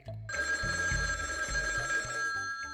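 An old-style telephone bell rings continuously in an animated cartoon, a bright metallic trill sounding alone and fairly clear for almost three seconds.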